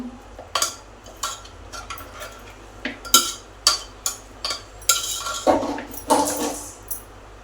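Spinach and chana dal batter being mixed with oil in a bowl, giving a run of irregular clinking and scraping knocks, fairly close and moderately loud, with no talking.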